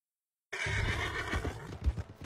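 After a brief silence, a horse in the video game Red Dead Redemption 2 lets out a loud, drawn-out whinny close by, with faint hoof clops underneath.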